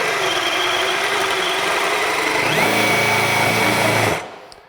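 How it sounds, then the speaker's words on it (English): A Milwaukee M18 compact brushless drill bores a 1-1/4 inch hole, whining loud and steady under load before its pitch drops and it winds down abruptly near the end. "We're going up to 1 1/4 inch. This is pretty big for a small drill."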